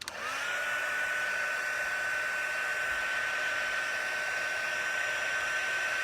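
A heat tool blows steadily while melting white embossing powder, a constant loud fan whir with a high whine running unbroken from start to finish after a brief switch-on.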